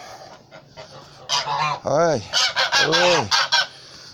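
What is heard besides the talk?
geese honking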